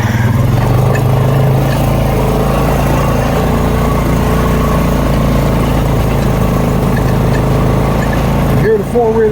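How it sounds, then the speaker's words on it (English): A four-wheeler ATV engine chatters loudly and steadily while dragging logs along a snowy forest trail, running at a constant drone throughout before a brief drop near the end. "You can hear the four-wheeler chattering."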